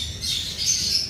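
Caged breeder birds squawking inside an enclosed room, a steady overlapping chorus of shrill calls that stays fairly loud and close for the whole moment, with no voices.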